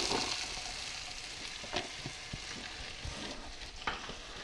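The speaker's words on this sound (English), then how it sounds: "Now that butter, we're going to add the carrots and the onion." Carrots and onion frying in butter in a pot, a steady close sizzle and crackle with a few scrapes and stirring knocks scattered through, no talking.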